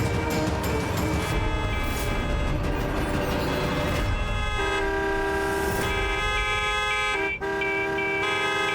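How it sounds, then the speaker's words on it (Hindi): Many vehicle horns blare together in a dense, sustained honking chorus, steady and loud throughout with overlapping tones and a brief dip near the end. "इस सारे गाड़ियों के भोंपू एक साथ बज रहे हैं।"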